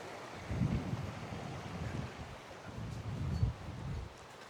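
Gusty wind blowing along a river buffets the microphone outdoors near a bridge in low, rumbling surges that rise and fall over a steady background hiss.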